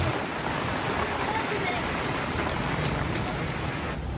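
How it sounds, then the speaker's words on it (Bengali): Heavy rain pours down steadily outside a roadside tea stall during a storm, a dense, loud, continuous hiss of drops on surfaces with no break. "হালকা বৃষ্টি থেকে ভয়ঙ্কর বৃষ্টি শুরু হয়ে গেল"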